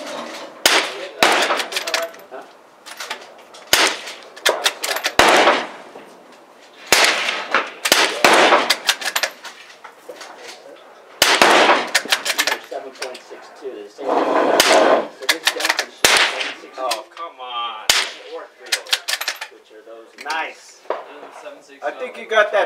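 Gunshots fired at moving targets, sharp cracks spaced irregularly and ringing out loud and near, with people talking between the shots.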